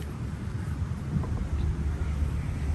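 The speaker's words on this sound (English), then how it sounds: "Oh, there's the wind." Wind buffets the microphone with a steady low rumble, gusting slightly throughout.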